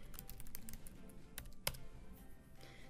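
Rapid keystrokes on a computer keyboard while entering JavaScript code, a steady run of close, crisp clicks with one sharper key strike near the middle and no speech.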